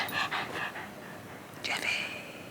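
A dog pants in quick, breathy bursts close by, with a short whimpering sound toward the end.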